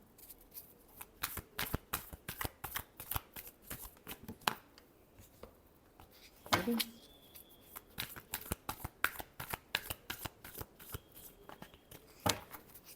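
Tarot cards being shuffled by hand in a long run of quick riffling flutters and soft slaps, close and clear, with brief pauses and a sharper burst midway.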